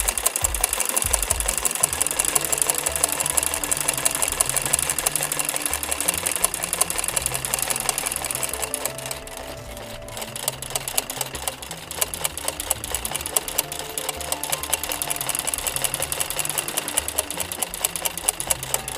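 A sewing machine stitches a zigzag embroidery on a guayabo flower design, its fast needle chatter running loud and continuous, easing briefly midway before resuming at full pace, close up and with no voices.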